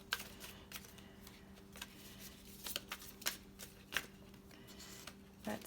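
Crystal cards being shuffled for a tarot-style reading, giving soft papery riffles and flicks in scattered bursts against a steady low hum, fairly quiet and close, with no talking.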